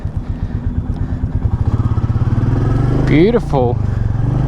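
Royal Enfield Meteor 350 cruiser motorcycle on its first ride, its single-cylinder engine thumping steadily close by, rising in revs with a brief surge and gear change, while a rider speaks briefly over it.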